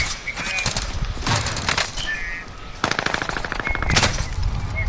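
Bursts of rapid automatic fire from a Milano submachine gun in the Warzone video game, loud and close, in several rattling volleys with short pauses.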